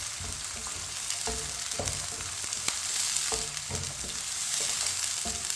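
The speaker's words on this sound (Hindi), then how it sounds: "इसे ऐसे ही चम्मच चलाते हुए ब्राउन करना है।" Desi garlic sizzles in a hot pan while a spoon stirs it for aloo baingan sabzi, a close, steady frying hiss broken by scattered scraping taps of the spoon.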